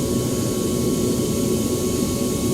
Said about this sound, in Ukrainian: Ось наш літак е, повинен зарулити на третю стоянку.